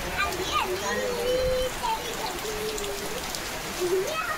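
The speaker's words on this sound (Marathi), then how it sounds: "पाऊस येतो." Rain patters and splashes steadily while people speak over it nearby.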